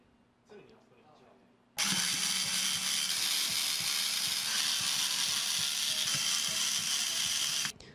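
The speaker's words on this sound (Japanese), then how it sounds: "ここの中に パッドがいるので 4つのネジを外します" Four screws coming out of an Instachord button board: quiet handling at first, then a loud, close, continuous whirring buzz that runs for about six seconds and stops abruptly.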